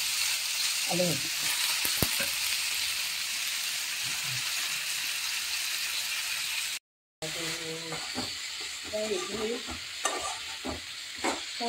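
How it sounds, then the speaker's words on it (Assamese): Potatoes frying in a pan, a steady sizzling hiss throughout with close stirring and utensil scrapes, a brief gap midway, and speech heard over the cooking. "ভাজি আছোঁ আলু ভাজি আছোঁ"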